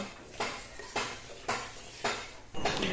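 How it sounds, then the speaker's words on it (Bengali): A large katla fish heads being stirred into moong dal in a metal pot: five sharp scraping clinks of a spoon against the pot at regular intervals, close and moderately loud over a soft simmer, with no talking. "এখন মাছের মাথাগুলো দিয়ে নাড়িয়ে চাড়িয়ে নামিয়ে নেব"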